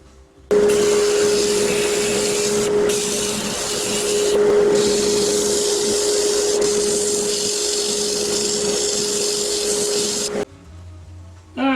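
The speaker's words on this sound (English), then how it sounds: "get my cut off tool, gouge it in a little ways" A cut-off tool gouges into spalted oak spinning on a wood lathe, giving a loud, sustained scraping hiss over a steady motor hum that runs for about ten seconds before cutting out abruptly.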